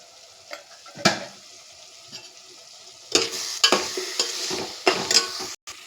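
Masala with tomatoes and coconut paste cooks in a pan for bendakaya curry, with intermittent sizzling bursts and spoon scrapes against the pan between quieter gaps.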